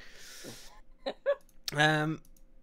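A man gives a short, low, guttural burp close to a podcast microphone after drinking Red Bull. A few small clicks and breath sounds come just before it.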